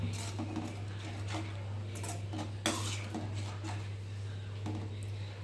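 A spoon stirs chana masala in a pan, making light scraping and clinking utensil sounds over a constant low hum, close and moderately loud, with a sharper clatter partway through.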